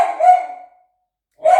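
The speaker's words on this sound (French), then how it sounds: "il y a mon chien qui aboie" A dog barks loudly and close, two bursts separated by a short silence, in a home setting.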